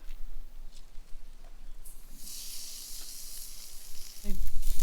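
A New York strip steak sizzling on an outdoor cooking setup, a steady hiss that swells louder and brighter midway, with a brief clatter near the end.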